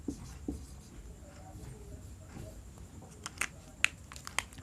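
Chalk or marker strokes on a board during an electric conduction lecture, scattered scratchy taps and short squeaks over a quiet room hum, with no speech.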